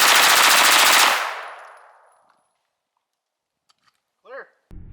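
Full-auto gunfire hitting a TV and a dishwasher: a loud, rapid, sustained burst of automatic fire for about a second, then a decaying echo into quiet, followed by a brief voice and some handling noise.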